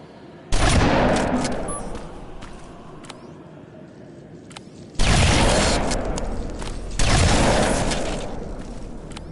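Three loud, close shotgun blasts from the game Terminator Resistance, each a sharp boom that rings out and decays slowly, spaced several seconds apart.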